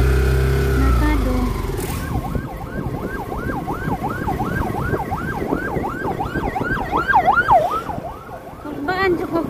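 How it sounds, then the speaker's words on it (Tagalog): An ambulance siren wails in a steady rising-and-falling cycle as it passes close by on a market street, loud over rumbling road traffic, with a short burst of a faster yelp tone near the end. "Naya ko ang ambulansya."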